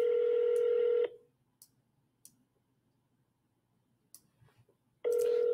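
Telephone dialing tones play for about a second at the start, then near silence with faint clicks, before the tones return at the end.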